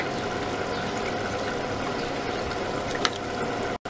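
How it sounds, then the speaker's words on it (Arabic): Water poured over toasted shrimp shells in a pot and stirred for shrimp soup, a steady, dense liquid rush and bubbling wash with a brief knock near the end. "وهنضيف عليه الميه وهنغطي القشر بالميه وهنقلب كويس"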